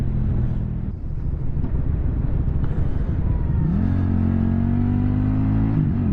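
A 2023 QJ Motor SRV300 motorcycle pulls hard through the gears, a loud close engine drone under heavy wind rumble, the pitch climbing then dropping at a shift and rising again.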